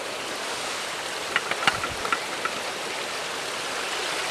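The overflowing Bued River rushes past in a steady, close wash of water, with a few faint clicks and knocks near the start and no voices.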